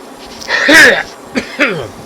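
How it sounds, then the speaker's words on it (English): A man coughs and hacks in a hoarse, throaty burst, then gives two shorter coughs, close and loud, while at the controls of an E175 flight simulator. "I sound like a 300-year-old man coughing and hacking."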